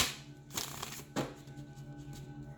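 Tarot cards handled and shuffled at close range, soft papery riffles and slaps in a few quick bursts over a quiet room, with no talking.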